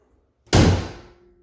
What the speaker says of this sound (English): Shut the hood.